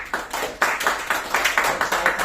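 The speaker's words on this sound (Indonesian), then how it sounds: "Ada tepuk tangan dulu dong." Small audience clapping at a business marketing presentation, an uneven run of close, sharp claps lasting a couple of seconds with no talk over it.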